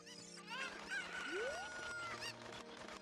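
A thrown chicken in a video game lets out a loud squawking, honking cluck with rising and sliding calls, heard up close and alone for about three seconds.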